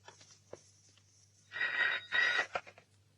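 An old landline telephone bell in a household rings in two short bursts after a few faint knocks, then falls silent; quiet room tone, no talking.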